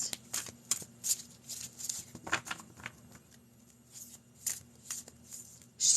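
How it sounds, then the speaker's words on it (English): A deck of tarot cards is shuffled by hand for a reading, giving repeated crisp riffling and soft slapping bursts in an irregular rhythm, fairly close and alone with no talk. "Let me pull some cards."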